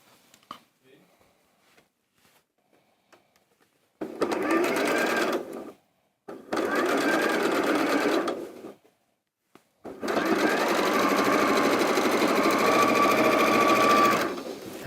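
A sewing machine runs in three close, loud bursts of rapid mechanical stitching while joining quilt block pieces, with short silent pauses between runs and the longest run at the end.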